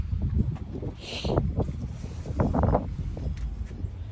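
A breeze buffets the microphone outdoors in a home garden with fruit trees, a steady rumbling gust that swells and eases, with a few faint rustles over it.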